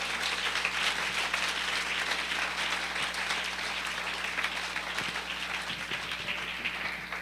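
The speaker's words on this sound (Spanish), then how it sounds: "denle un aplauso al Señor en esta mañana." A church congregation at a Spanish-language morning service applauds, producing a steady wash of clapping that holds evenly for about seven seconds over a low hum in the room.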